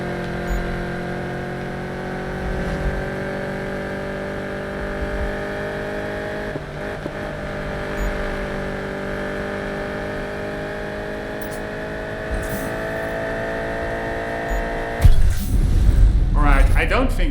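A car cruising steadily in Need for Speed 2015, its engine holding an even drone with stable harmonics for most of the stretch before a rougher, louder surge near the end.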